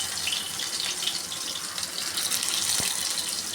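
Marinated pointed gourd pieces frying in hot oil, a continuous bright, hissing sizzle at close range with a brief thud partway through, no speech.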